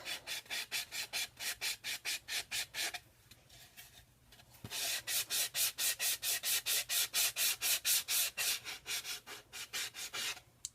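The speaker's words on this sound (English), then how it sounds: "I choose to just hand sand it, just so I have a little bit more control over how much I'm doing." Sandpaper is rubbed by hand across wood in quick, regular back-and-forth strokes, a rhythmic rasping that pauses briefly midway and then resumes faster, close and alone.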